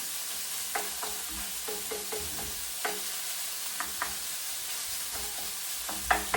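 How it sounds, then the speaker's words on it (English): Minced pork frying in a pan with garlic, a soft constant sizzle punctuated by a series of sharp spatula taps and scrapes as the meat is broken up and stirred, no talking. "break the pork into like small pieces and also evenly spread in my pan"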